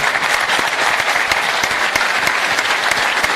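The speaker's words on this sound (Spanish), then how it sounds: "Le vamos a brindar un aplauso a la esposa de Oreste que está acá" Dense applause from an audience at a celebration of a couple's 60th wedding anniversary, steady, loud and continuous throughout with no pauses.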